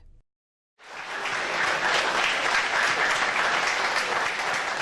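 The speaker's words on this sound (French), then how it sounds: "Ces applaudissements nourris de l'assistance" After a brief cut to silence, an assembled audience bursts into sustained, dense applause that holds steady and loud through to the end.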